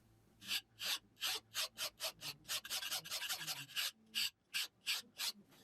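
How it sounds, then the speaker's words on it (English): A hand file rasps against a wooden knife blade held in a vise, smoothing bandsaw marks in steady back-and-forth strokes, about a dozen and a half crisp scrapes, close and alone. "I put the piece into the vise and used a file to smooth out all the bandsaw blade marks"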